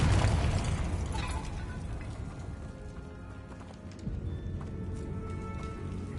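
The Confringo spell blasts in Hogwarts Legacy, a loud fiery burst at the start that decays into a rumbling tail, followed by softer game ambience.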